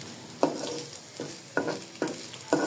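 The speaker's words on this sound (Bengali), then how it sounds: "দেখুন আমার শুটকি ভাজা প্রায় কমপ্লিট।" Dried fish, kachki and chela shutki, fries in a pan for a mashed bharta, a steady close sizzle broken by five or six sharp scraping stirs at irregular intervals, with no talking.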